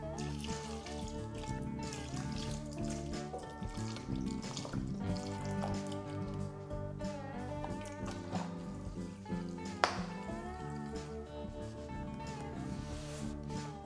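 Water trickles and splashes steadily into a pot while sugar and vinegar are added for a quick pickling liquid for mango habanero hot sauce, quiet and continuous over faint background music.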